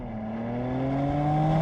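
A Porsche Panamera 4 E-Hybrid pulls away at full throttle, its engine note rising smoothly and steadily in pitch with a loud, close, continuous drone throughout the short burst.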